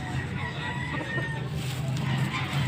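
Bull stag roosters at a poultry market in Bocaue, crowing and clucking amid a constant busy crowd murmur, the calls moderately loud over the steady background chatter.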